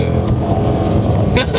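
Corvette C6 V8 engine accelerating gently on a road up a hill, a loud, continuous, deep rumble heard from inside the car, with a voice speaking over it.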